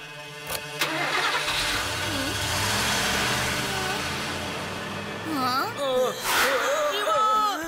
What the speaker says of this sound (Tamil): வண்டி எடுங்கடா.